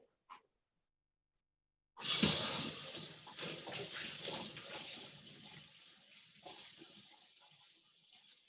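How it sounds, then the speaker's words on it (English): Hands being washed under a running kitchen tap, a brief click and then a steady rush of water splashing, easing slightly toward the end. "I'm going to wash my hands"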